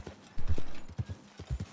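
A horse trots in Red Dead Redemption 2, giving a run of soft, rhythmic clip-clop hoofbeats, close and fairly quiet, with no talking over them.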